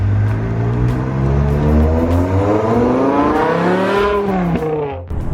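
A 562 bhp V10 BMW E63 M6 drives and revs up through its gears, engine pitch climbing steadily and loud and close, then dropping sharply as the throttle lifts near the end, with no talk.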